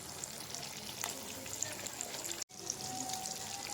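Vegetable shami kababs fry in a pan, a steady close sizzle with soft crackling that holds throughout and breaks off for a brief instant near the end.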